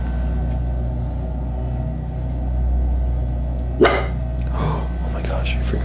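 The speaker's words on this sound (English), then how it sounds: "what do you think Zoe was barking at?" A dog named Zoe gives a couple of short barks over a low steady indoor rumble, with people talking around them.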